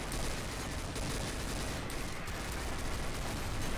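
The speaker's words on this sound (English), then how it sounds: "Even after you like pump the shotgun again." Dense shotgun gunfire in Garry's Mod Zombie Survival, loud and continuous with overlapping blasts that keep up a steady roar throughout.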